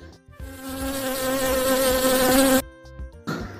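A steady, droning insect buzz, like a bee, holds close and loud for about two seconds before cutting off.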